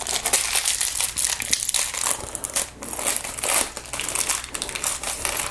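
Older-style Lego City Dirt Bike Transporter Set #4433 parts bag, thin plastic with little holes, crinkling and crushing continuously and close up, dense rustling throughout with no talk.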